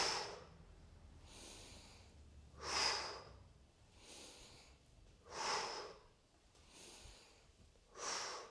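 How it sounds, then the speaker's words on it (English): During a seated yoga stretch, slow breaths push out through the mouth, about six soft, airy exhalations in a steady rhythm, close and quiet, with no talking. "breathing out through the mouth."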